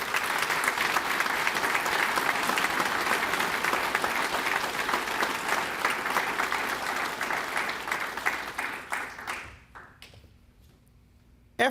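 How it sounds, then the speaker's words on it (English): A crowd at a Navy Chief Petty Officer pinning ceremony gives a round of applause, a thick, loud clapping that holds steady, then thins and fades out over the last few seconds into near silence. "let's give our Chief Mess a round of applause"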